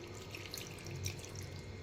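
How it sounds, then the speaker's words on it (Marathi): Cold water running from a tap into a pot of boiled spinach after draining, a soft continuous splashing flow, quiet and close, no speech. "आता हे पाणी टाकून द्यायचं आहे आणि थंड पाणी टाकायचं आहे पालकामध्ये"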